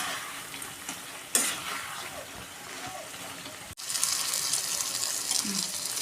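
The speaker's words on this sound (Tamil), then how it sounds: "இந்த மசாலா கொஞ்சம் எண்ணெயிலே அப்படியே வதங்கி வரட்டும்" Masala sautéing in oil for a tamarind puli kulambu, a soft sizzle and stirring scrape close by, with a sharp clatter partway through and a louder, brighter hiss of frying toward the end.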